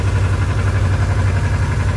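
Kawasaki KLE Versys motorcycle engine idling at just over 1,000 rpm, a loud, close, steady low throb with even pulsing and no voices.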